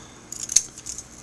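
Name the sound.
scissors cutting a makeup swatch package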